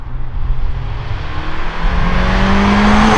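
A powerful car engine roars past up close, its rising whine and turbo hiss building steadily louder over a few seconds.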